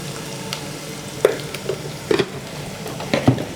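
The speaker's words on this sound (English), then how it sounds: "So I have my onions in my oil. They're cooking nicely." Onions cooking in oil in a pan, a steady soft sizzle with occasional sharper clicks and stir scrapes, close and moderately loud, with no talking.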